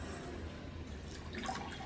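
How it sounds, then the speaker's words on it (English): Water poured from a bottle into a glass, a steady splashing trickle that runs on for a couple of seconds and brightens slightly near the end as the level rises. "So let's start pouring."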